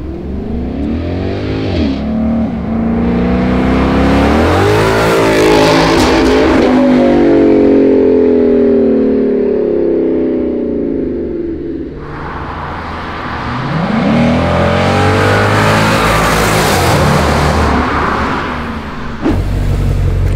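A Ford Mustang GT 5.0 revs hard while being driven, its V8 rising and falling in long loud sweeps, easing off mid-run before surging again.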